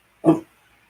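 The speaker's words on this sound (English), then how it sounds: "barking at me again" A single short, sharp dog bark close by, followed by near silence.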